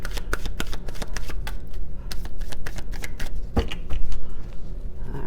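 Tarot cards are shuffled by hand in close, rapid riffles and snaps, an uneven run of crisp papery slaps and flutters lasting a few seconds, with no voices.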